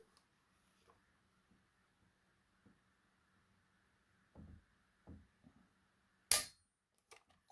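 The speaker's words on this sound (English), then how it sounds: "I'm going to do 3 trigger pulls with each gun." A Ruger LCP pistol is dry-fired against a trigger pull gauge in a quiet room: a few faint handling thumps come first, then one sharp, bright snap of the hammer falling, followed by small clicks.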